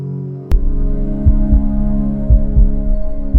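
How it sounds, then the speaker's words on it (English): A deep, steady hum throbs beneath, punctuated by low, irregular thumps like a slow heartbeat, loud and close, after a sharp click at the start. "A low, pulsating hum claws at the air, growing louder"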